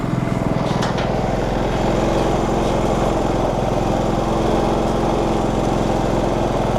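A Generac GP3300i portable inverter generator runs steadily nearby, its small engine droning in a constant, loud hum with no pauses or voices.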